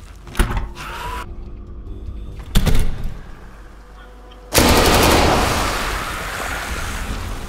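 Gunfire in the zombie shooter game Dead Frontier 2: several loud bursts of rapid shots cut in and out, with a dense, sustained blast of noise filling the final seconds.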